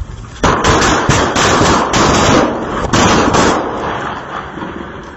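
A rapid string of sharp Diwali firecracker bangs crackles loudly in quick, uneven bursts, close by, with echoing pops trailing off.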